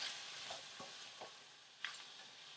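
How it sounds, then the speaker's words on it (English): Shrimp and chicken being stirred in a sizzling pan: a soft, steady fry hiss broken by a few scraping utensil strokes and a light clink, quiet and close. "go ahead and throw all your shrimp in. They should be pre-thawed. If they're a little frozen, that's okay. And you're going to mix it all together."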